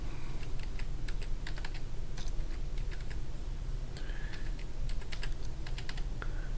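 Typing on a computer keyboard while writing an office memo in Word, with bursts of crisp key clicks in uneven runs over a low steady hum, close and clear.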